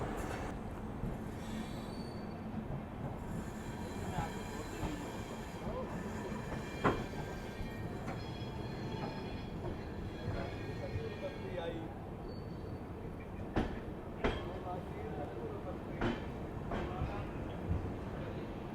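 A train pulling into Jaisalmer railway station, a steady rolling rumble with faint wheel squeals and a few sharp clanks toward the end, continuous throughout with voices murmuring underneath.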